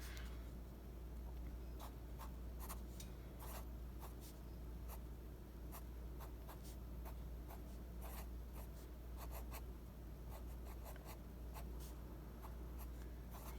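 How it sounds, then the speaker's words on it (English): Pen strokes scratch on paper while a word is written into a summer adventure journal, as a run of short, faint scribbles in uneven bursts against a quiet background, with no talking. "So here I'm going to write down serpent"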